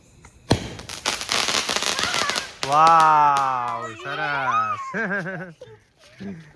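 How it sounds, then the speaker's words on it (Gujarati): A colour shot firework is set off at home, giving a loud burst of dense crackling and popping for about two seconds, followed by excited voices shouting and cheering. "પપ્પા તો આ કલર શોટ ફોડી આપશે"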